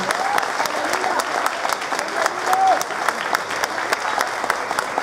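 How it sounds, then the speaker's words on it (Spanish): A church congregation claps steadily and enthusiastically for several seconds, with a few voices and whoops rising over the applause. "Si me ayudan a darles un fuerte aplauso."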